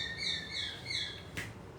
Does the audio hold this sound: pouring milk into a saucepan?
no